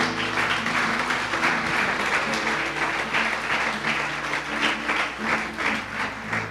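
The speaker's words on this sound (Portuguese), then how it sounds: "Uma salva de palmas ao Senhor." A church congregation claps together in sustained applause, a dense, steady wash of hand claps lasting the whole stretch with a low musical tone underneath.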